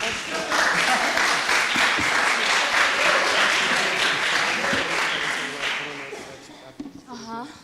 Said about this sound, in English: you can clap your hands, please